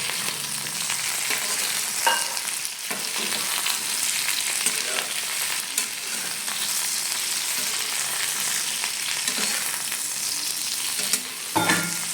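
Ladyfinger sizzles and fries in a pan with salt as it is stirred, a steady hiss punctuated by occasional scraping clicks of the utensil against the pan.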